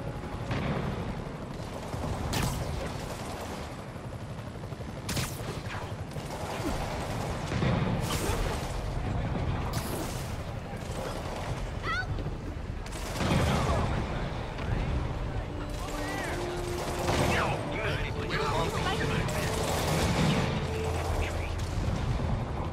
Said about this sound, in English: Need reinforcements at Outpost Foxtrot. We're taking fire.